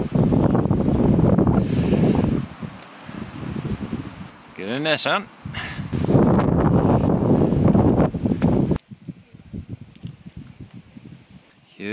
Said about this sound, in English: That's windy up here.